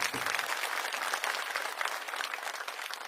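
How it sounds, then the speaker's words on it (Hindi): Dense, steady applause from a large audience at an outdoor election rally in Tughlakabad, Delhi, honoring party workers; continuous crowd clapping fills the whole stretch with no speech over it. "मैं चाहूंगा हमारे कार्यकर्ताओं के लिए सबसे पहले एक बार जोरदार ताली आप लोग बजाइए"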